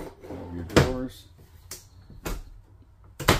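Bathroom drawers in a Champagne 38EL fifth wheel RV are opened and shut, giving a few sharp wooden clacks and slides spaced across the moment, close by, with a person talking between them.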